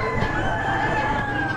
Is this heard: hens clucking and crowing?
yes